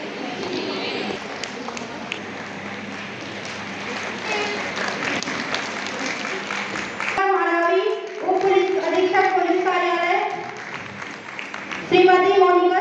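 An audience at an International Women's Day award ceremony in Dhamtari, India, claps steadily for several seconds as a woman is honoured, then the applause gives way to someone speaking over a microphone.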